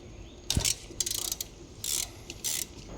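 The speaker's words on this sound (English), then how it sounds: "Now we're going to use our number 7 Allen bit to remove this bolt here." A hand ratchet fitted with a number 7 Allen bit works a brake caliper mounting bolt on an Alfa Romeo Stelvio, giving several close, crisp clicking bursts in a stop-start rhythm with brief pauses between strokes.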